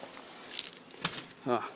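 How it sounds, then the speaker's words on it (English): Keys for an Isuzu Bighorn Irmscher truck jangling in short metallic bursts as they are pulled out nearby, with a brief voice at the end. "get the keys out."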